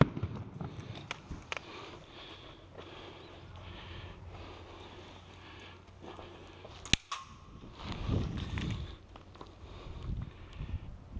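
Airsoft gun shots crack out during an outdoor airsoft game on a rooftop, a few sharp snaps scattered over steady wind and ambient noise, with a louder burst near the middle.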